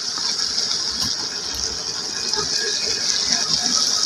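Desi ghee and sugar pour into a pan of carrot halwa with milk nearly dried, a steady loud hissing gush that runs continuously without pause and no voices over it.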